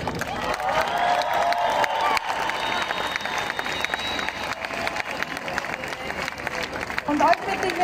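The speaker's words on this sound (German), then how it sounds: "Bitte einen großen Applaus für die beiden Veranstalter" Large outdoor concert crowd at Heldenplatz applauding and cheering for the event organizers, a dense sustained wash of clapping with scattered whoops and shouts, loud and steady throughout.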